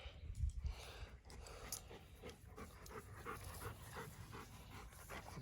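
Dogs pant and whimper close by outdoors during a metal detecting hunt in Vermont, with quick breathy bursts and snorts over rustling ground noise.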